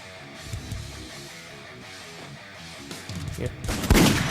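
Gunfire in the video game Free Fire, rapid muffled shots repeating at a mid distance, growing into a louder burst near the end, under game background noise.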